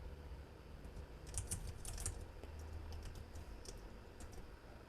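A computer keyboard clicks in a quick, irregular run of soft keystrokes that cluster in the middle and trail off, faint against a steady low hum, with no talking.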